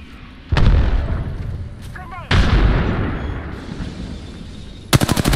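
Gunfire in the video game Apex Legends, with heavy booming shots landing at intervals and a rapid burst of automatic fire near the end. People speak during the firefight.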